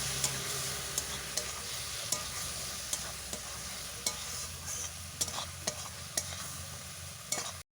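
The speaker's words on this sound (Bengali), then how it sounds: "অল্প অল্প জল দিয়ে মশলা আমি ভালোভাবে কষে নেব" Spice paste of chili powder, turmeric and a little water fries in a pan for a duck egg dish, a steady low sizzle broken by regular scraping knocks of a spatula being stirred, close and with no talking.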